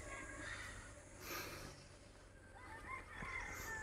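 Chickens being bred for sale clucking faintly on a farm, soft intermittent fowl calls over a steady low hum of outdoor background noise.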